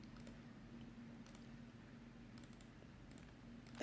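Faint, scattered keystrokes on a computer keyboard, soft and close, over a steady low electrical hum in a quiet room.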